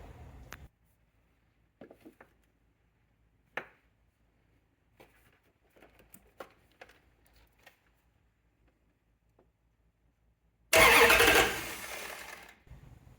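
Dakota with a swapped Hemi engine, which starts and stalls repeatedly: faint clicks and taps, then a loud burst of cranking and catching that lasts about two seconds before dying out.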